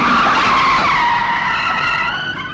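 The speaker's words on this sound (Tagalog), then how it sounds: "Pag tinapakan ang preno, dapat huminto." A car brakes hard to a stop, its tires screeching in a loud, sustained skid that trails off over a couple of seconds, with no voices.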